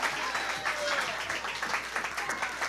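An audience bursts into applause during a spoken performance. Many hands clap together in a steady wash at moderate level, with some voices mixed underneath.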